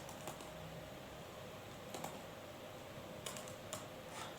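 Keyboard typing while writing Go code for an AWS EC2 termination routine: a few sparse, soft keystroke clicks scattered over steady background hiss, no talking.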